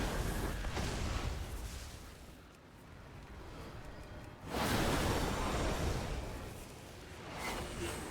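An Evoker casts Fire Breath in World of Warcraft, making a roaring, whooshing blast that surges, fades in the middle, then swells again loudly and holds.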